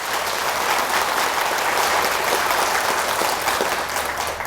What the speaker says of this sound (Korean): 뜨거운 박수 한번 주시기 바랍니다